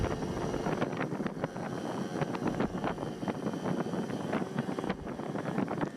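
A Yamaha QT50 moped running on 40-to-1 premix without an oil pump, its small two-stroke engine buzzing steadily with a rapid, ragged putter at moderate distance.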